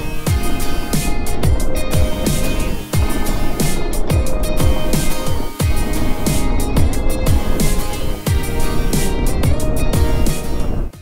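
A KTM Adventure 390 motorcycle rides an off-road track near Pangong Lake in Ladakh, its engine droning loud and continuous with recurring buffeting, rumbling surges, likely wind and rough terrain, and no talk.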